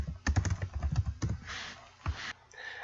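Quick bursts of typing on a computer keyboard, several rapid clicks clustered together followed by a few isolated keystrokes and softer rustling, close and fairly quiet.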